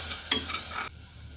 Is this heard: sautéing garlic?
yes